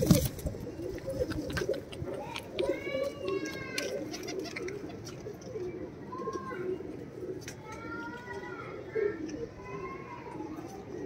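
Rajasthani high-flyer pigeons in a Mumbai loft coo repeatedly in low, rolling phrases, with chirps from other birds and a steady murmur of background voices.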